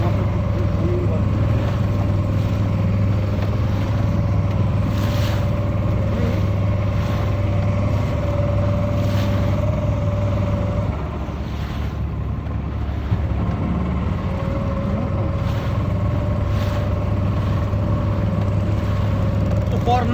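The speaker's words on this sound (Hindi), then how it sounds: "ये बोट हमसे तेज चल रही है, शायद ये हमें ओवरटेक करेगी।" Steady low drone of a boat motor running on the Mekong River during a morning ride toward a floating market, continuous and close, with faint voices and water noise in the background.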